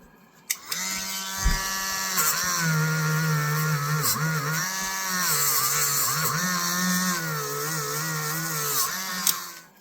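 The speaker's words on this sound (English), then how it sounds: "if I choose to use a Dremel just to do the initial cleanup" A Dremel rotary tool grinds steadily for several seconds on an old vintage camp knife under cleanup, a loud close whine that rises and dips in pitch as pressure changes, with a few short clicks at the start and end.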